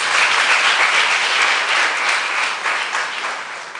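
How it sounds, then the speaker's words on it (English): Sustained, dense applause from a camp audience honoring the participants, loud and steady throughout with no talk over it. "a round of applause to yourself."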